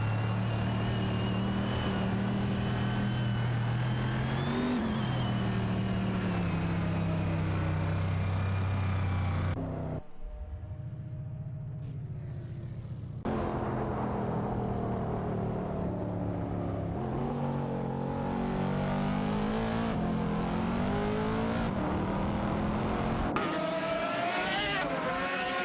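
Race cars on a track in a racing video game, with engines droning and revving continuously and loudly, a brief dip and gear change partway through, and several overlapping cars close together.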